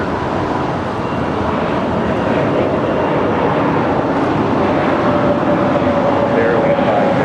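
United heavy airliner taking off from runway 25 right at Los Angeles International Airport: a loud, steady jet engine roar fills the whole stretch, with a faint rising whine near the end.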